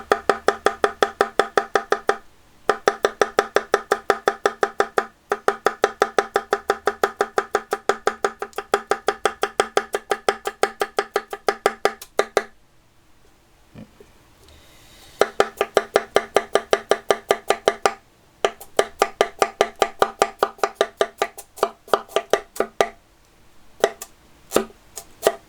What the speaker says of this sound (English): I'm going to try to cut rings coming up the carrot